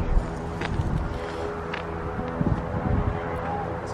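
Strong outdoor wind at a time-trial event for a very low racer bike, a steady rough rumble buffeting the microphone throughout, with faint background sounds.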